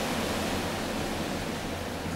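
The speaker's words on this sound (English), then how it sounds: "You can hear how windy it is on Omaha Beach." Steady, roaring wind on Omaha Beach, a broadband rush with no pauses holding at constant strength throughout.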